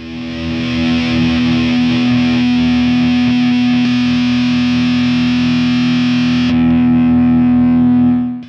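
A single distorted electric guitar note sustains for about eight seconds through a KILL-BOOST pedal, a loud steady drone that thins slightly near the end before cutting off, with no talking.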